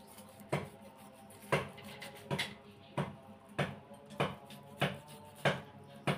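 Two boiled potatoes worked by hand for a soybean kebab mix, giving soft, regular strokes about once a second. Each one is close and quiet, with a short, crisp edge.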